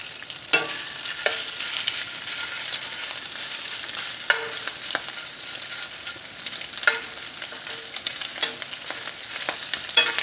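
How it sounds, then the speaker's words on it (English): Italian sausage frying in hot beef tallow in a pan, a steady bright sizzle with occasional scraping stirs and knocks of a utensil against the pan, close and continuous without talk. "So beef tallow to the pan. We're gonna go ahead and add our Italian sausage."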